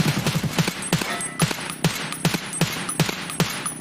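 Gunfire in Escape from Tarkov, a rapid burst of shots followed by evenly spaced single sharp reports, close and loud, roughly a dozen cracks in quick rhythm.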